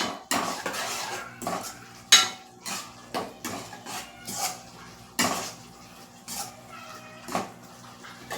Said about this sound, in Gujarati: હવે આપણે એમાં આ ભીંડા એડ કરી લેશું ભીંડા એડ કરીને પણ બરાબર મિક્સ કરી લેશું